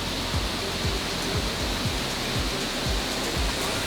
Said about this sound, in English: there's a lot of this spray coming off the waterfall